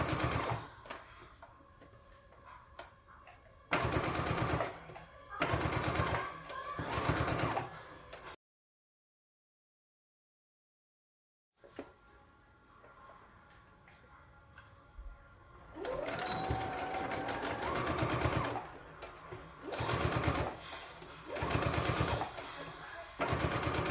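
A home sewing machine basting a seam on a tie-front top, running in several loud bursts of rapid stitching separated by pauses and a brief silence, with a voice speaking at times.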